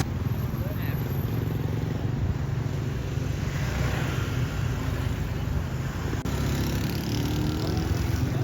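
Busy road in Vietnam with dense traffic and fast motorcycles passing, a continuous loud engine and tyre rumble with occasional bikes rising out of the steady roar.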